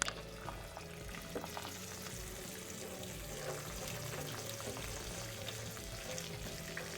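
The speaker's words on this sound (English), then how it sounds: "we're going to use cold water to rinse." Cold water runs steadily from a sink tap over rice in a strainer, a continuous splashing hiss with no pauses and no voices.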